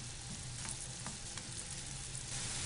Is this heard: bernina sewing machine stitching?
no